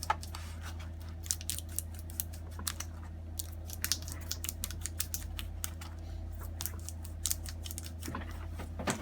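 Scissors snip through the rubber strip around the screen of a 13-inch MacBook Air, A1369/A1466, as a string of small, close, crisp cuts over a steady low hum, with no talking.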